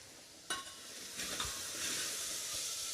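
Cluster beans being sautéed in a single pot give a soft, steady sizzle with a few brief stirring scrapes and clinks, close up, with no talking.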